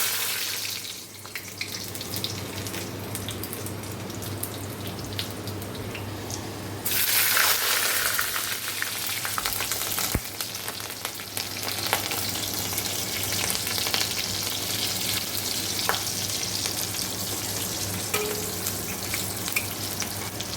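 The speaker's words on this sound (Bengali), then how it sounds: "এবার এই মাছগুলো ভাজবো তার সাথে ঢাকা নিয়ে নিয়েছি কারণ পাবদা মাছ ছিটবে" Pabda fish fry in hot oil in a covered pan with a loud, steady sizzle and crackle that swells after a few seconds and keeps up continuously; a sharp pop or clatter comes now and then.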